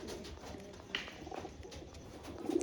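A black-feathered female Dunchira pigeon makes soft, intermittent bird sounds close by, heard faintly over a steady background hiss.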